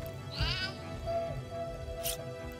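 A single soft, high meow from a cat in the video game Divinity: Original Sin, heard faintly and briefly over a quiet game background.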